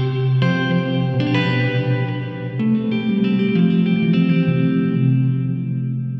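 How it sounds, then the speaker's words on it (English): Jeff Buckley's Hallelujah-style instrument heard steadily with a wash of reverb, sustained tones blurring into a spacious, echoing tail throughout, no voices. "With reverb, we cannot only simulate space, but also bring instrument closer or further away to us."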